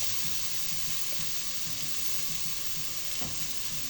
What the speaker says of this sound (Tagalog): gisa-gisa muna natin guys